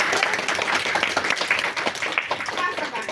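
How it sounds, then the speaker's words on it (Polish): Applause from an audience at a preschool initiation ceremony, dense continuous clapping filling the whole stretch at a steady loud level, with voices mixed in underneath. "brawa ogromne dla Was"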